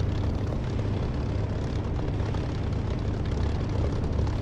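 Steady, loud drone of an aircraft engine inside the DCS flight simulator game, a continuous low rumble with broadband roar that stays constant throughout with no talking.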